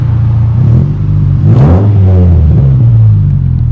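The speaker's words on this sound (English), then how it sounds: "Couple of revs." A 1.6-litre Ford Focus mk1 engine is blipped a couple of times at a fuel station, a rising rev swell in the middle over a steady close idle rumble, with no talking.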